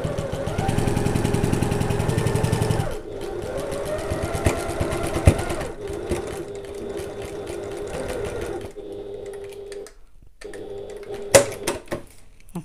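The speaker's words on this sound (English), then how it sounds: "And then I'm going to keep sewing as normal until I get back up to the other side of the pocket." A sewing machine stitching a bag pocket hums loudly in a steady run for about three seconds, then carries on in quieter, shorter bursts with small pauses and clicks.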